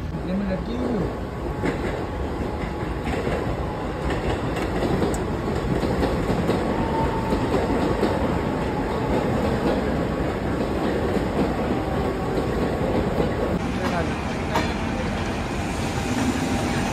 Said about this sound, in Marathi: तर ट्रेनची राणी आहे डेक्कन क्वीन.